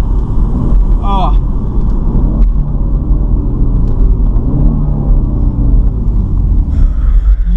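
A BMW Z4 with an automatic gearbox rumbles loudly from inside the cabin as it drives, engine tone climbing and settling through gear shifts, with a person talking over it.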